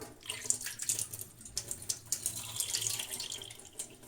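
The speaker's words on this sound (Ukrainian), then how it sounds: "І собі водичка помаленьку стікає, тому як майже 20 літрів" Water from a roughly 20-litre container drains slowly through its tap, a close, uneven trickling and splashing flow that swells and dips throughout with no talk.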